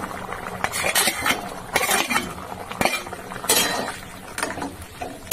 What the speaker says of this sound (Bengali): তা দিয়ে একটু নাড়তে হবে অনবরত, নাহলে লেগে যাবে।